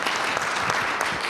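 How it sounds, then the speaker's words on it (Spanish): Warm applause from an audience at a school lecture session, a short dense burst of many hands clapping, steady and fairly close. "Damos un caluroso aplauso"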